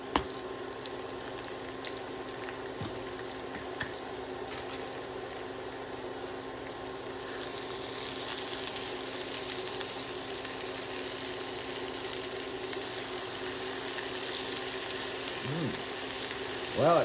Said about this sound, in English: Okay, we're adding these diced onions.